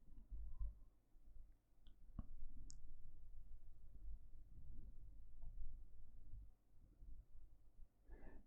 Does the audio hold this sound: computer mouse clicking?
yes